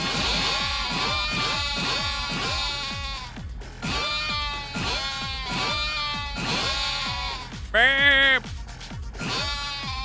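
Repeated sheep bleats from a video game come in a steady rhythmic run, loud and close, with a brief higher electronic chirp near the end; someone talks over the bleating.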